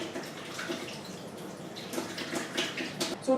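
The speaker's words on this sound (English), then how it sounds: "Wash your hands." Hands being washed under a running tap in a home kitchen while baking chocolate orange cookies, a steady soft splash of water with small drips and rubbing, fairly quiet and without talk.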